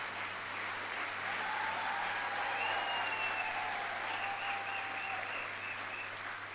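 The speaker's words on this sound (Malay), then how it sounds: "Satu tepukan lagi." Steady applause from a crowd fills the whole stretch, with a few faint whistles rising over the clapping.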